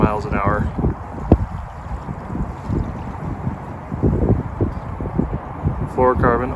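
Strong wind buffets the microphone outdoors during a trout-fishing outing, a constant low rumbling roar, with a voice briefly at the start and end.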